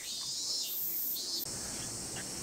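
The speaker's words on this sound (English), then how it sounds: "Cicadas are really loud here." Cicadas near Tokyo Tower buzz in a loud, dense, shrill drone, steady and close, with a brief dip midway before resuming.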